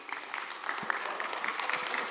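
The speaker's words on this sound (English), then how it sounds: "a quick round of quick round of applause for the winning team, please" A small audience at a cybersecurity tabletop exercise talk claps briefly for the winning team, a fairly faint, steady patter of hands.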